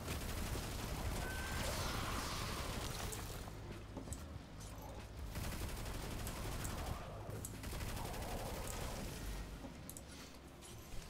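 Sustained rapid gunfire in Destiny 2 during an Eliksni Quarters community event, loud and dense bursts with brief pauses around four and seven seconds.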